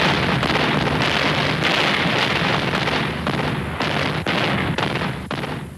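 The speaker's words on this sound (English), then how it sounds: "the fourth battle for Cassino began with the now traditional fanfare of heavy guns." Massed heavy artillery guns in the Battle of Cassino, 1944, a loud continuous barrage of overlapping booms with sharper individual reports punching through a dense rumbling roar.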